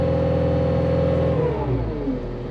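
A Cat 259D skid steer's engine runs through an exhaust burn cycle: a loud, steady mechanical drone that shifts lower and rougher partway through, with no talking.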